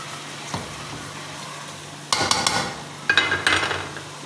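Fish salan curry cooks in hot oil on a stove turned up high, a quiet sizzle underneath as a utensil stirs and scrapes the pan in two bursts of close clatter.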